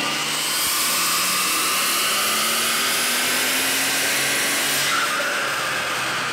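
A Mercedes CL65 AMG with a stock V12 runs hard on a dyno, a loud sustained roar with rising whine and tire hiss that swells then eases near the end, no talk.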